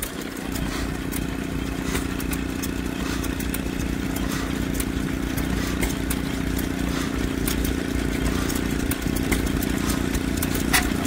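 A Gardner stationary engine running on gas at a rally of classic cars, tractors and engines, with a continuous steady mechanical chug and hum and sharp ticking clicks on top. It is heard at a moderate distance.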